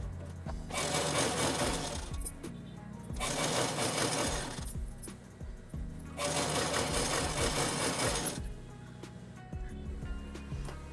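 Sewing machine stitching salwar panels together in three bursts of rapid whirring, each a couple of seconds long, separated by short pauses, near and clear with no talking.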